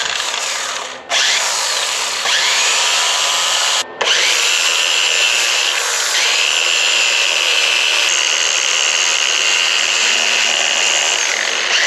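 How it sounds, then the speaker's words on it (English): An angle grinder with a sanding flap disc whines steadily and loudly, briefly cutting out twice before spinning back up and grinding continuously. "So, Ems, this is called the sanding disc."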